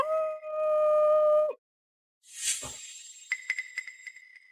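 A person imitates a wolf with a long, sustained, tonal howl, which cuts off abruptly. After a silent gap come a breathy whoosh and a series of light metallic clinks and chimes.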